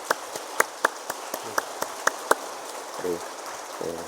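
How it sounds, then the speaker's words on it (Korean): A congregation at a Sunday worship service claps to welcome newcomers. Sharp claps fall in a steady, evenly spaced rhythm, and a voice is briefly heard near the end. "우리 뜨거운 박수로 환영하겠습니다."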